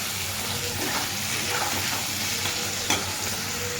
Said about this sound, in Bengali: আলু ভাজা হয়ে গেছে, এখন আমরা মশলাটা দিয়ে ভালো করে মিক্স করে নেব।